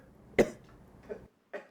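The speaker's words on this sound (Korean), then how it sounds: "한 남성이 기침하자" A man coughs in a university lecture room during a staged meeting: one sharp close cough followed by two softer short coughs, with quiet gaps between them.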